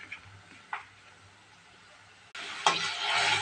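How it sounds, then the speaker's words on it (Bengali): Onion with ginger and garlic paste fries with spices in a pan. A faint sizzle with light stirring clicks rises to a louder, steady frying hiss partway through. "মশলা কষানো হয়ে গেছে।"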